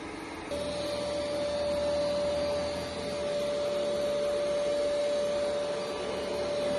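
ECOVACS X8 Pro Omni robot vacuum running: a steady mechanical hum kicks up in level after half a second into a constant whine with airy suction noise, close and continuous, no voices.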